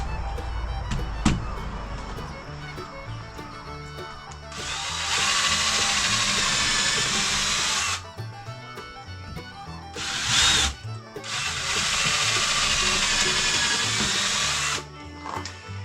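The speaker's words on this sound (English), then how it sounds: "So we're just going to start the bit. Once we start a good bite into the wood" A power drill drives a bit into wood at an angle, whirring loudly at close range in two long sustained runs with a brief burst between them, plus some clicks and handling noise.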